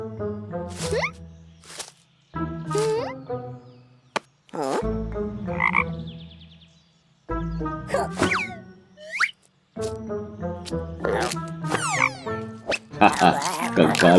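A cartoon frog in a haunted-forest children's story croaks loudly in repeated bursts separated by brief silences, with spoken dialogue and playful sound effects mixed between the calls.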